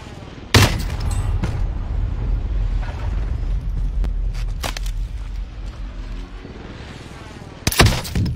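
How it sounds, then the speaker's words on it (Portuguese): Gunfire in a first-person shooter video game: several sharp, loud shots, with one near the start and a pair near the end, over a constant low rumble of battle ambience. No voices are heard. "Onde veio esse tiro aí?"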